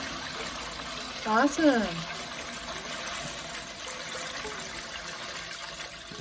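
Melted, rendered tallow pours out thin and runny like water, making a soft continuous trickle during wood-ash lye soap making, while a person briefly exclaims over it.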